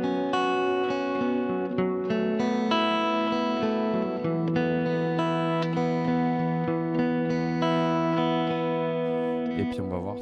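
An electric guitar, processed through effects, plays the verse part of a song, with sustained ringing notes and chords filling the whole stretch without a break.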